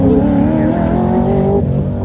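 A Chevrolet Camaro engine drones loudly and steadily at high revs during an autocross race, holding a sustained tone before shifting slightly, with a voice talking over it.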